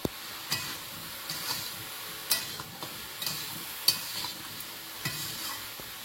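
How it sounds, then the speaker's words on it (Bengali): Vegetables for Bengali shukto fry in a pan, giving a steady low sizzle broken by sharp scraping clicks as a utensil stirs them every second or so, close and with no talking. "ভালো করে একটু ভেজে নিতে হবে"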